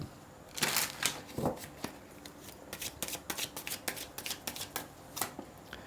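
Tarot cards being shuffled for a reading, a run of crisp riffling flicks and soft slaps that bunch into bursts and repeat steadily, close and fairly quiet, with no voices.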